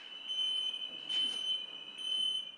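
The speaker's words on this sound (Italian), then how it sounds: "Scatta l'allarme acustico e visivo" A smoke alarm in a nightclub sounds a loud, steady high-pitched tone that pulses in repeated bursts, standing alone with almost no other sound.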